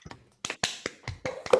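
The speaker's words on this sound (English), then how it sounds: "let's briefly unmute ourselves and applaud for the speaker." A few sparse claps and taps from an online audience after a mathematics talk, scattered over under two seconds, thin and uneven, as from a handful of people clapping separately.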